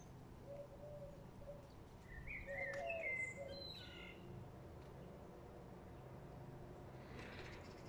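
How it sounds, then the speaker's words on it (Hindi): Wild birds calling on a sunny morning in Rochdale, UK: scattered short chirps and twittering phrases, fairly faint and distant over a soft outdoor background hiss, with no one talking. "देखो ये परिंदे सुबह सुबह चहचहा रहे हैं, इनके चहचहाने की आवाज़ें आपको आ रही हैं।"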